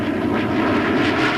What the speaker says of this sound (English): The Avro Vulcan, the world's first delta-wing 4-jet bomber, is in production for the RAF.